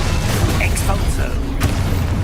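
An Expulso spell explodes in Hogwarts Legacy, a brief boomy burst amid game effects, with a sharp crack near the end, heard under a person talking.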